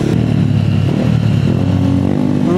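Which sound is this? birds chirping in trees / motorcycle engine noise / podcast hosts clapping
motorcycle engine noise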